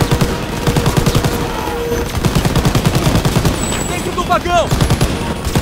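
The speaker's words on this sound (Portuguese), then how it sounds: "Metralhadora!" Machine gun fire in the video game Call of Duty WWII rattles in fast, steady bursts through loud battle noise, while soldiers shout over it.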